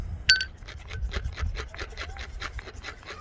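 A Condor Swamp Romper knife blade scrapes along hardwood to raise tinder, giving a run of quick, even rasping strokes close by, with one brief sharp click near the start and no talking.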